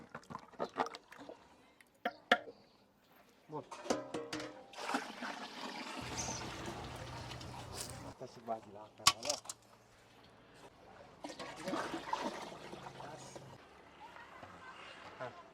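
Water is poured into a large pot of mutton curry being cooked in bulk for a feast, splashing and trickling in bursts amid clattering utensils and some talk.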